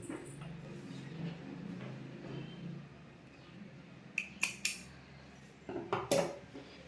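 Scissors snip through churidar cloth, a few quiet crisp cuts in short bursts, first a pair of snips and then a closer cluster, over a low room background.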